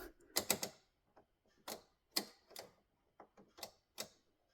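Heater blend doors in a 1998 GMC Jimmy moving, giving a series of sharp mechanical clicks and ticks, irregularly spaced and quiet, close up with no talking.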